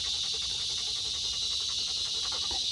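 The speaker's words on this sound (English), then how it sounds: "And the cute dog." A dog pants rapidly and steadily close by outdoors, quick rhythmic breaths repeating about four times a second over a continuous background hiss.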